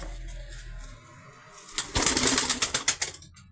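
An ash-speckled tumbler pigeon flaps its wings in a rapid burst of beats while tumbling, loud and close, after a quieter start.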